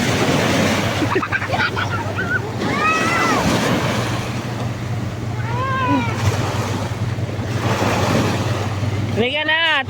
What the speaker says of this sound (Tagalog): Malakas lang ang alon.